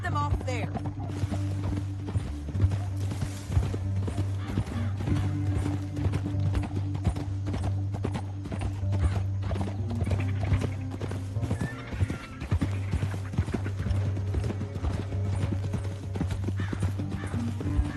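Horse hooves clip-clop in a steady, close trotting rhythm across a canyon trail in Red Dead Redemption 2, with a horse whinnying and characters talking over the continuous hoofbeats.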